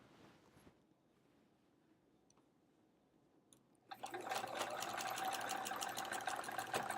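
A sewing machine stitches in the ditch on a quilt. Near-silence gives way to a loud, steady, close whirr of stitching that carries on to the end.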